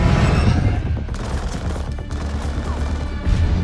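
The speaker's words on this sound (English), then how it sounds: "Taking heavy enemy fire!" Dense, sustained automatic gunfire in a Call of Duty: Infinite Warfare battle around a convoy under heavy enemy fire, loud and continuous with overlapping bursts and crashes filling the whole stretch.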